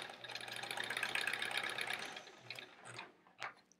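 A sewing machine stitches quilt fabric at close range, its motor whirring and needle ticking in a fast run that fades off around two seconds, followed by a few short bursts and a brief final spurt.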